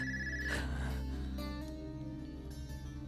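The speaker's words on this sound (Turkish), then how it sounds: "Telefona ben bakayım istersen." A telephone rings steadily in a scene from a Turkish TV drama, a sustained, ringing electronic tone lasting the whole moment with no talk over it.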